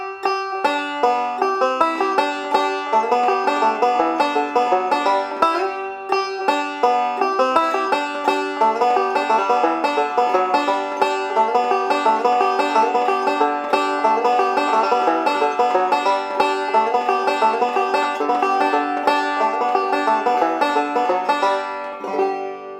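A banjo plays the tune Cripple Creek in a bright, fast rolling picking pattern, a dense stream of plucked notes carrying on steadily and close up, heard alone without any talking.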